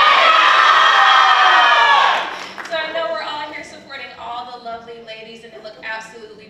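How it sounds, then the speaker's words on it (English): A university scholarship pageant audience screams and cheers loudly for contestants in a dense, high-pitched burst lasting about two seconds, then fades as an announcer speaks over the hall. "On the count of three, I want you to scream out your contestant that you're cheering for."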